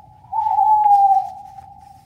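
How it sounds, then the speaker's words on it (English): A single steady tonal toot of a freight train whistle, holding one clear pitch for about a second, loud and alone over a faint low rumble. "or could it perhaps be a train whistle toot?"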